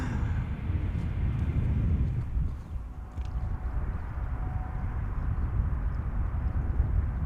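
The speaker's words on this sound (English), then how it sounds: "Embraer 190 arriving from Basel from KLM in the foreground" KLM Embraer 190 airliner arriving from Basel at Amsterdam Schiphol, a steady low jet roar that holds at moderate level for several seconds with no talk over it.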